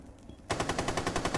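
Rapid automatic gunfire in a video game starts abruptly after a quiet moment and rattles on in an even, fast rhythm, fairly loud and close.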